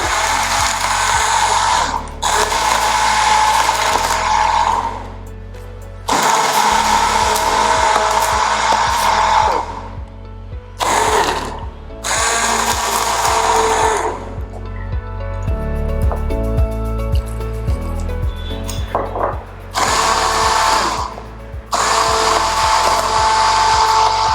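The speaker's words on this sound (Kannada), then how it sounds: "ಎಳ್ನೀರು ಮತ್ತು ಇವಾಗ ಇದನ್ನ ಮತ್ತೆ ಬ್ಲೆಂಡ್ ಮಾಡ್ಕೊಳ್ತಾ ಇದ್ದೀನಿ" A kitchen blender whirs loudly through a tender coconut shake in several bursts, stopping briefly between runs and starting again with a steady high motor drone.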